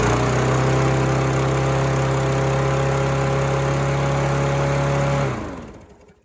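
A Briggs & Stratton Quantum 5 hp lawn mower engine on an MTD mower runs at high throttle, a loud, steady close-up drone that holds for about five seconds and then winds down and dies away.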